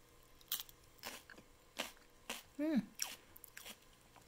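Someone eats roasted red pepper hummus, likely scooped onto something crisp, with a series of close, quiet crunching bites and chewing, and a brief hum or murmur from the eater partway through.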